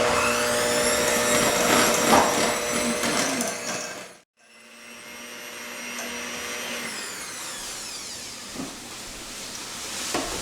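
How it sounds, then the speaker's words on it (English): Electric hand mixer beating egg and vanilla into sugar cookie dough, a steady close whirring drone that stops briefly for a moment and then starts again, running alone without talk. "So you continue to beat these until the egg and the vanilla are well incorporated."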